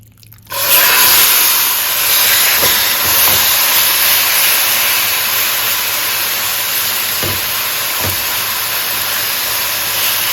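Chicken pieces for pelau sear in a hot pot with a loud, constant sizzling hiss that starts abruptly and holds steady throughout, with a few faint knocks underneath.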